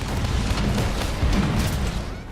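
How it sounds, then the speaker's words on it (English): Dull, rumbling booms roll in a continuous low barrage, with a couple of heavier thuds standing out, from bowgun fire during the Kulve Taroth siege hunt in Monster Hunter World. The sound is dense and noisy, like distant blasts. "What are those explosions? What even is that?"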